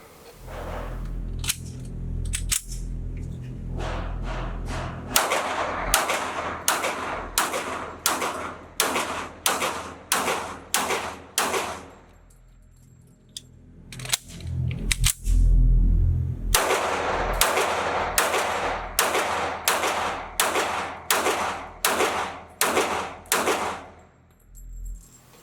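A Kimber Pro Carry Ten II polymer 1911 pistol fires two magazines in quick succession, sharp loud outdoor gunshots in a rapid string, a brief pause with metallic clicks for the mag change, then another fast string of shots.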